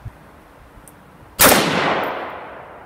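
A single sharp rifle shot from a custom automatic-weapon-style upper firing M193 55 grain full metal jacket ammo cracks loudly outdoors, then decays into a long echoing tail; there is no talk.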